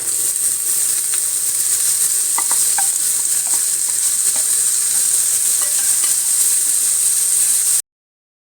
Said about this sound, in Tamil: இந்த பாவக்காயை சேர்த்து போட்டு வதக்கிடுவோம்